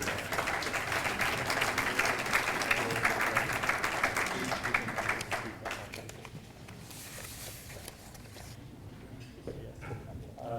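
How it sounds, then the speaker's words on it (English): Applause at a university fundraising iftar dinner, a busy clatter of hands that stays loud for about five seconds, then thins out into scattered claps and quiet room murmur. "Give a round of applause to him."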